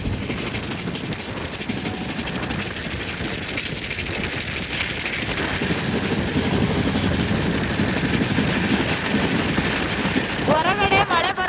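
Rain beats steadily against a train speeding at about 130 km/h between Mantralayam and Bagalkote, a loud continuous hiss and rumble throughout, with a brief voice near the end.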